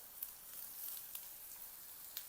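Green chillies and curry leaves sauté in a pan with a faint, even sizzle, broken by a few soft crackles and pops.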